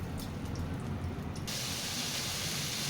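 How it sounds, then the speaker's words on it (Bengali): Potatoes fry in hot mustard oil for a pointed gourd and potato dolma, with a soft steady hiss that swells into a brighter, louder sizzle about halfway through and then holds continuously. No one speaks. "আলুগুলো ভেজে নিচ্ছি, এইভাবেই একটু লাল লাল করে ভেজে নেব।"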